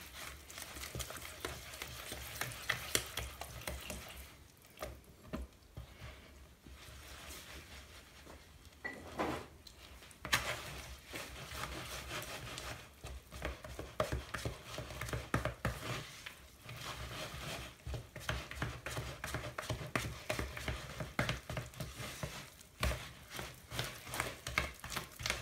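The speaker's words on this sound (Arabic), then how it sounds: "نزيد الكاس الاخر و نبدا نحرك باليد" Flour being mixed by hand into pizza dough, soft irregular squishing and rubbing strokes at close range, quiet and continuous with brief pauses, no talk.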